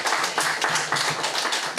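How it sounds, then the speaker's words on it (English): An audience at a seminar on consumer protection gives steady applause for the students. The close, dense clapping comes in faintly rhythmic waves with no talking. "So we need to give them a round of applause,"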